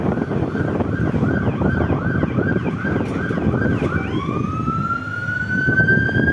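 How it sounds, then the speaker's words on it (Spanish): Ambulance sirens wail from a hilltop lookout over Siloé, a rapid repeating yelp giving way to a rising long wail as a second siren joins, loud over constant city traffic rumble. "las ambulancias que vienen"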